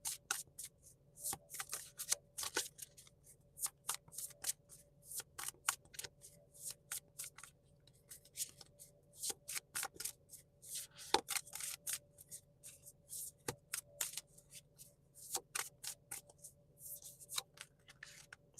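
Tarot cards are shuffled by hand in long runs of quick, crisp riffling clicks and slaps, close and fairly quiet, with no voices.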